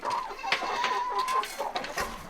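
Several chickens on a Maine farm cluck and murmur close by in a continuous, busy chatter, with occasional sharper squawks.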